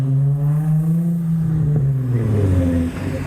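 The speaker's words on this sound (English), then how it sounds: "He's burning them up with a small little wheel spin." Modified Honda Civic leaving a car meet, revving hard with a loud close engine note that climbs and wavers as the tyres spin in a small burnout, ending with a drop in pitch.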